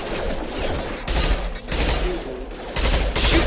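Rapid bursts of automatic gunfire aimed at hostiles in Mass Effect Legendary, loud and dense, arriving in clustered volleys with brief gaps and mechanical clatter between them.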